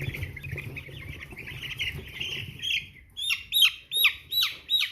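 American Bresse chicks peeping during sorting: a soft chattering murmur, then a run of loud, close, rhythmic high peeps repeating about twice a second.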